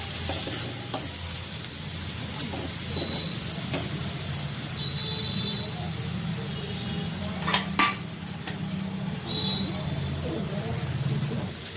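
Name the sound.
stirring food in a pan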